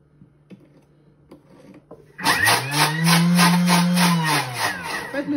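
A Thermomix TM6 on turbo pulse whirring through whipped egg whites: quiet clicks at first, then a sudden loud high-speed motor roar with a rising and falling whine that runs to the end.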